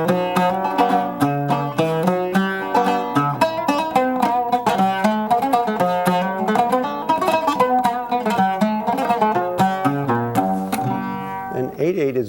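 Oud played solo in a steady Greek-style 7/8 rhythm, plucked notes grouped three-three-four, dense and continuous at close range with no talking over it.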